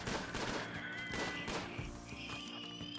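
Colonists open fire on an enemy in a colony-building video game, a dense burst of rapid gunshots and crackling volleys that runs for a few seconds with a faint high whine behind it.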